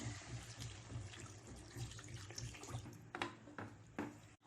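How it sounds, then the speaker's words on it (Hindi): Water poured into browned mutton curry in a cooking pot, a steady, fairly quiet splashing stream lasting throughout, with a couple of brief louder splashes near the end. "आखिर में हम इसमें पानी डाल देते हैं।"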